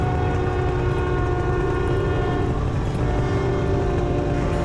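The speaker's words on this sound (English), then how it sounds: "Got to see a nice train on the way and recorded those sounds" A train rumbles steadily past nearby, a continuous loud roar of wheels on rails with a low droning hum.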